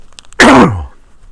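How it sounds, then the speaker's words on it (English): A single loud, rough throat clearing, close up, breaking a brief quiet and fading out after about half a second. "just as soon as I clear my throat"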